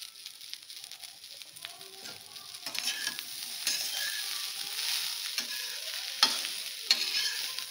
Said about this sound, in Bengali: আদাটাকে একটু ভাজতে হবে।